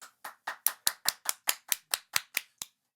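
A single person claps hands about a dozen times in a quick, even rhythm, close and crisp, then stops.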